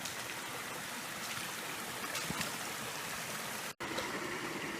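River water pours steadily at a small waterfall, a dense, even rushing wash at moderate level with no voices, broken only by a momentary dropout near the end.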